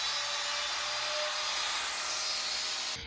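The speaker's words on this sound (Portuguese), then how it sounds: "Usei a tupia para fazer o sulco onde os LEDs vão se encaixar, realizando várias passadas" A wood router cuts a shallow groove in a wooden strip to seat an LED strip, taking several light passes; a steady, loud high-pitched whine and rushing cut noise runs throughout, stopping abruptly at the end.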